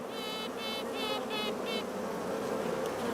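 A young queen honeybee pipes inside a swarming colony, giving five evenly spaced, buzzing tonal pulses that stand out over the steady hum of the hive.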